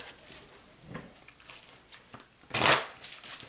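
Energy reading cards being shuffled by hand: soft riffling and papery slaps, close and quiet, with a louder, denser burst of shuffling near the end.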